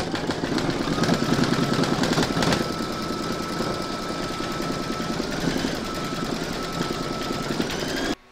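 An embroidery machine hums and chatters at a fast, steady stitch rate while quilting a round on a large square scallop placemat, close and continuous with a slight shift in pitch partway, before stopping abruptly at the end.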